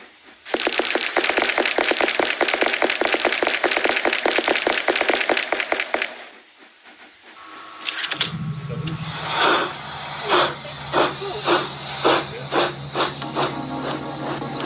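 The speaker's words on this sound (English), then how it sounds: "the locomotive's firebox has to be lit up and for steam to build" Black 5 steam locomotive 45025 building steam with its firebox lit, a loud rapid pulsing hiss for several seconds, a brief lull, then lower rumbling and rhythmic gusts of steam.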